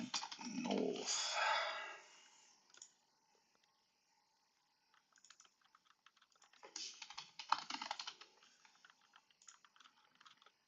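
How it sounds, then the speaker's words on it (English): Computer keyboard typing comes in two bursts of rapid, close clicks, one at the start and a longer patter later, with a quiet gap between. "We are all in typing mode."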